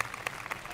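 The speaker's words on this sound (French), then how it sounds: "Vous pouvez les applaudir bien." Applause for a semi-finalist at an archery final: a brief, moderately faint patter of clapping hands from a small crowd, with a few sharper claps standing out.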